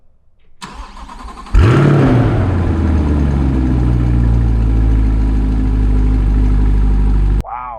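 A 2023 Chevrolet Corvette Stingray convertible 3LT Z51 70th Anniversary Special Edition fires up with a sharp bark and rev, then settles into a loud, rumbling idle before cutting off abruptly; close and alone.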